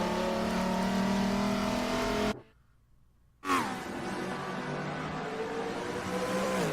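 A GT race car engine holds a loud, sustained rev near 6,000 RPM on the Maple Valley circuit in Blancpain GT America racing, dropping out for roughly a second before roaring straight back at full level.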